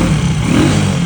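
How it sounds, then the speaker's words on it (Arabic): Running motorcycle engine with an altered engine note, a loud close low rumble that stays steady through the short stretch, no speech. "شوف لا شو النغمة د الموتور تبدلات"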